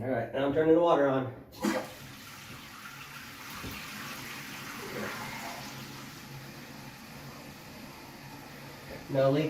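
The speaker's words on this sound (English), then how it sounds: "now I'm turning the water on" Water rushing into a toilet tank through a newly installed fill valve, a steady hiss and trickle at close range after a brief burst of talk, with a voice returning at the end.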